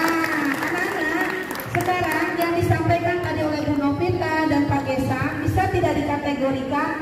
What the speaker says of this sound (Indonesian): tepuk tangan buat Pak Gesa